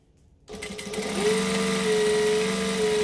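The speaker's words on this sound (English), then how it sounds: "we're going to fold these right sides together and then stitch it shut" A sewing machine runs steadily, stitching a folded fabric seam with backstitching at the start and end; the motor hum starts abruptly after a short quiet moment and holds an even, close, continuous whir.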